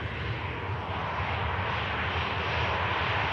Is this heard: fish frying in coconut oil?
no